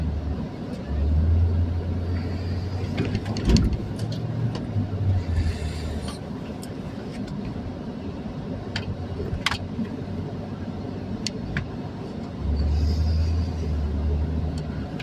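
A Toyota Sequoia with a new radiator and water pump drives along, its engine rumbling low and steady from inside the cabin, with deeper surges near the start and end, light clicks and knocks, and someone talking at points.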